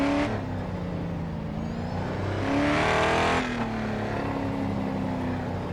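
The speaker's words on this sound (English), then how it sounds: "So when you change the gears now, it's got the sound back in." A Holden V8 race car engine in the GRID Autosport video game drones steadily, rising in pitch and loudness as it revs, then dropping sharply at a gear change before climbing again, close and continuous with no voices.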